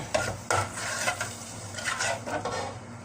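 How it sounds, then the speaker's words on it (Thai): A spoon stirring green curry paste into coconut milk in a pot on a slow gas stove, with scraping clinks against the metal over a soft sizzle, loud and close without talk. "เรากะทิลงแล้วเอาน้ำพริกแกงลงเลยพี่น้อง"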